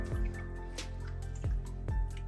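Cold water is poured over freshly made hot paneer, heard as a few separate close drips and small splashes spaced apart, quiet and without talk.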